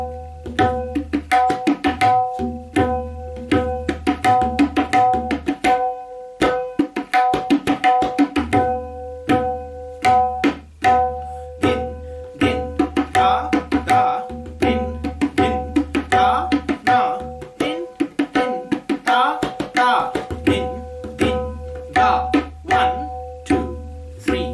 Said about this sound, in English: This would sound something like this when played on the tabla.